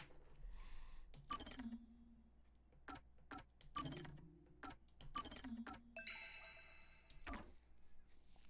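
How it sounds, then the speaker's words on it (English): A faint ticking clock in Master Detective Archives, soft regular ticks mixed with quiet clicks and shuffling game sounds, low and distant in level. "The faint sound of a ticking clock"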